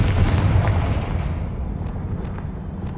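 A Confringo spell blast in Hogwarts Legacy: one heavy explosive boom at the start that rumbles on and slowly decays, followed by faint crackling debris.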